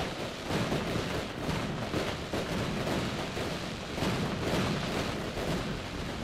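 Fireworks go off in the Mars colony-building game Surviving Mars, a steady rumbling crackle of bursts and booms that continues without pause at moderate loudness, with no voices.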